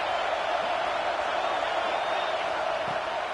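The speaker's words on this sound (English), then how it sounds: "The Buckeye crowd alive on third down." A Buckeye stadium crowd in a college football video game roars on third down, a steady wash of cheering at moderate volume without breaks.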